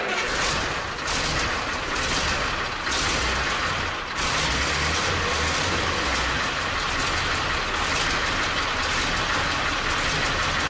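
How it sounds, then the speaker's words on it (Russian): A KamAZ 4310 6x6 truck engine runs in a garage after being fitted with a new muffler, giving a loud, steady rumble with broadband exhaust roar throughout and no talking. "Давайте запустим мотор и послушаем, как КамАЗ работает с новым глушителем."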